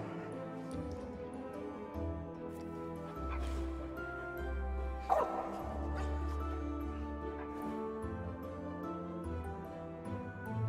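A dog whimpers in the video game Trine 4, soft yips and whines rising now and then over a steady bed of game music and ambience.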